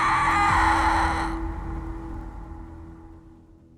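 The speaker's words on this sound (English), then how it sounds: "began with a terrifying, blood-curdling scream" A loud, sustained high scream at a house in Napa Valley, shrill and harsh for over a second before cutting off and leaving a fading hum.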